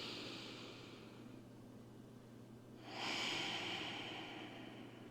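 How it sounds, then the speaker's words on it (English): Slow breathing in a quiet room during a yoga session, one long soft inhale through the nose followed by a fuller, breathier exhale through the mouth, close and alone. "So full breaths through the nose into your hip and out through the mouth."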